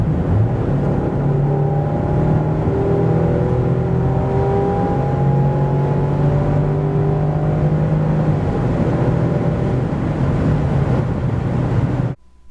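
A 2022 Land Rover Defender 110 with a 300 hp 2.0-litre petrol engine pulls hard from 90 to 140 km/h, the engine note climbing slowly through a long gear, steady and loud with road and wind roar underneath.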